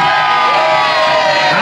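A large outdoor crowd roars and whoops in a loud, continuous cheer for House Lancaster at Warwick Castle's War of the Roses event, a dense wall of voices with no breaks.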